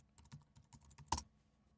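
A password typed on a computer keyboard during a software install: a quick run of light, evenly spaced key taps, capped by one sharper, louder keystroke near the end, close and isolated with no voices.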